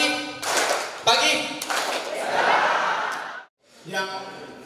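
A group at a parish council meeting in a church hall claps hands in a call-and-response clap game, sharp rhythmic bursts of clapping alternating with chanted voices and laughter.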